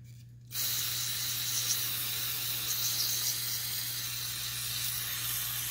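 Carburetor cleaner sprayed from an aerosol can onto a Go-Ped racing engine carburetor, starting abruptly after a short pause and hissing steadily and loudly at close range for about five seconds over a low constant hum.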